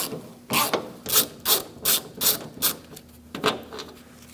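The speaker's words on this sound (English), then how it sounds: "Now we're going to remove this Torx bit bolt with a" A ratchet wrench with a T25 Torx bit backs a bolt out of a 2006–2011 Chevrolet front door, making about seven quick, rhythmic ratcheting clicks, close and crisp with brief pauses between them.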